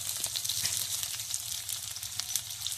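Chopped onion sizzles steadily in hot oil in a pan while a vegetable semai dish is cooked, a dense continuous frying hiss with occasional stirring clicks, close and alone without talk.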